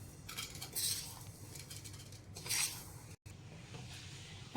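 A spoon scrapes and clinks as homemade methiya masala, a fenugreek spice mix, is transferred onto a plate, in a few quiet, separate bursts of scraping against a soft background hiss.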